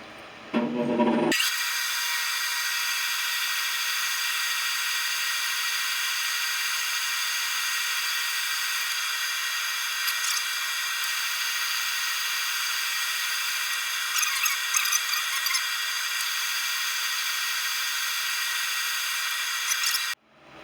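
Steady, continuous abrasive rasp of 120-grit sandpaper against a spinning epoxy-rimmed wooden bowl on a lathe, loud and unbroken for about twenty seconds under a constant motor hum, with no talking.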